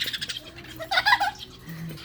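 Parrots meeting other birds for the first time give a few short, excited chirps and squawks, faint and close, with a soft low rustle beneath.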